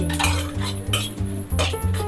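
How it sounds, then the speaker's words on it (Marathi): A metal spoon stirs coriander seeds, cumin, garlic, chilies and sesame seeds as they roast in a pan, making brisk, rhythmic scrapes and clinks against the metal, close up with no voices. "धने, जिरे, लसूण, मिरची, तीळ, धने हे सगळं व्यवस्थित भाजून घ्यायचं ना?"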